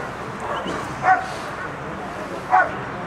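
Two short, sharp dog barks about a second and a half apart, moderately close, over a quiet room hum.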